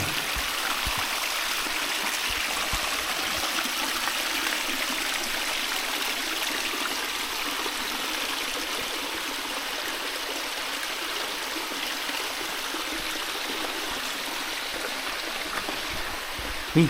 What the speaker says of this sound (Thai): ไม่น่าใช่น้ำจากสายยางนะครับ จะไหลแรงขนาดนี้